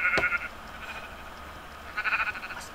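Sheep in a video game bleat in two short bursts, one near the start and another near the end, over a quiet background.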